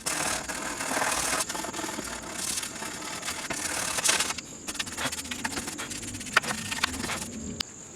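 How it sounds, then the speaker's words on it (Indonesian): Continuous rough scraping of sandpaper rubbed back and forth over a corroded metal base plate of a Pioneer CT-676 tape deck, fairly close and steady. "Pergunakan amplas untuk membersihkannya."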